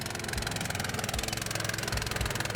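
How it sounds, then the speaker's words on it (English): A motorized snow sled with a fuel-injected engine runs steadily nearby, a throbbing, slightly knocking mechanical drone with a rhythmic pulse, moderately loud and without voices. "Now we try a motor dog with an injection engine."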